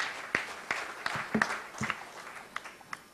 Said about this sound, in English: Let's give a big round of applause to all this team.